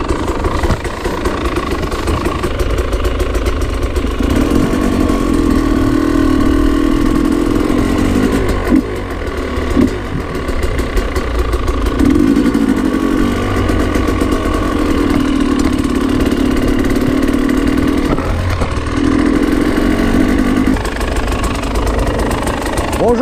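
Enduro motorcycle engines idle and rumble steadily at close range at a race parc fermé in Saint Junien, loud and continuous with a few louder revving swells, and voices faintly in the background.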